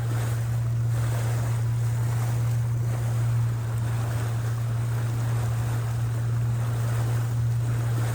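Steady low engine drone with continuous water wash and wind rumble, a boat moving along at a constant pace through ice-strewn water in King Edward Cove, South Georgia, without voices.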